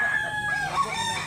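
A sweater bloodline gamecock crows once up close, a bright, drawn-out call with rising and falling tones, loud and clear against quiet background.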